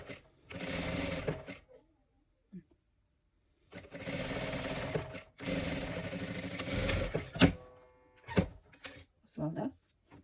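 A sewing machine stitches fabric pieces for a toy fox in short, loud, rapid bursts of needle clatter separated by pauses, with small clicks and handling noises between the runs.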